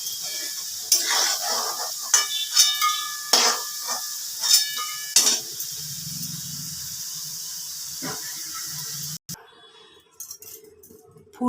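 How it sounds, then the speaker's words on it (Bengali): Cauliflower fries in oil in a pan, with crackling sizzle bursts as pieces go in and a utensil scrapes and clinks against the metal, then the frying settles into a quieter hiss. "এবার আমি কপিটা ভেজে নিচ্ছি"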